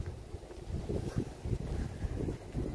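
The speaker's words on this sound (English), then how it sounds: "Somewhat comfortable in this windy," Gusty wind on a hot, windy Saturday outdoors in Boynton Beach's Leisureville buffets the microphone as someone walks around, producing a steady low roaring rumble that rises and falls in uneven surges.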